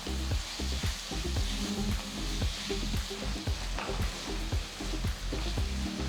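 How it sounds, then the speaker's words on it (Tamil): Steady, loud sizzling of tomatoes sautéing in a hot pan, with a continuous crackle and occasional stirring scrapes, close by. "பொடிசா நறுக்கின 2 தக்காளி சேர்த்து நல்லா வதக்குங்க"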